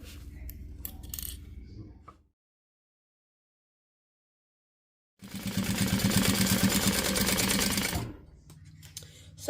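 A sewing machine runs a burst of top stitching on fabric, a steady rapid mechanical whir lasting about three seconds after a silent pause, with softer handling noises before and after.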